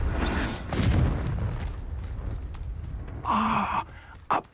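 The Confringo blasting spell explodes in Hogwarts Legacy: a deep, muffled boom at the start, then a quieter rumbling stretch and a second sharp burst near the end.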